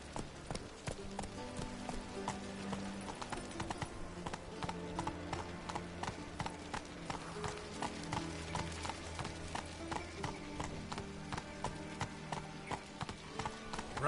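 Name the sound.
horse Roach galloping, from a video game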